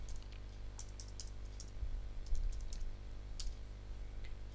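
Light keystrokes on a computer keyboard while working in an Excel spreadsheet, a short irregular burst of soft clicks with pauses, faint and close over low room hum.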